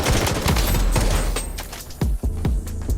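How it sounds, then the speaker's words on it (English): Rapid bursts of close-range gunfire from paired akimbo Glock pistols in the mobile shooter Blood Strike, a fast-fire-rate handgun with extra burst damage; dense overlapping shots crack loudly and continuously, with a brief lull near the end. "we have the Glock with the akimbo attachment"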